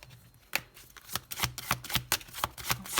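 Tarot cards are shuffled in a steady run of sharp, rhythmic slaps and riffles, close and clear, about ten quick strokes in succession with no talking.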